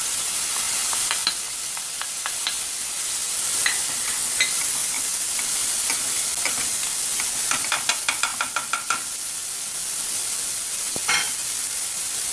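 Spiced ingredients, including salt, turmeric, saffron, black pepper, cumin, red pepper and cinnamon, fry in a pot with a constant close sizzle, punctuated by a series of light clicking taps and scrapes from stirring.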